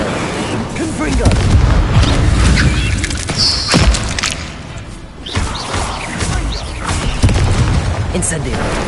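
Confringo spell blasts in the Hogwarts Legacy video game erupt as loud, dense explosive booms and crashes over a continuous rumble of game sound, with a voice speaking partway through.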